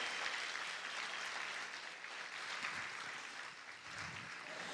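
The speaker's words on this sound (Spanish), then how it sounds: "Vamos a aplaudir fuerte al Señor en esta hora." A church congregation applauds in a dense, continuous wash of clapping, heard faint and somewhat distant, holding steady for several seconds.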